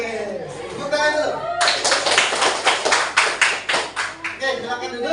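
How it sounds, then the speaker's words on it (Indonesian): Classroom group claps their hands in applause, a burst of dense, rapid clapping that starts sharply after a moment of talk and continues steadily, fairly close, before fading as a voice resumes. "Oke, tepuk tangan dulu."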